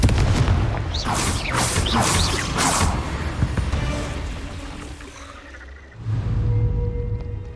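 Confringo blast spell in Hogwarts Legacy combat: several sharp, loud explosive bursts in quick succession, then a rumbling tail and a final heavy boom.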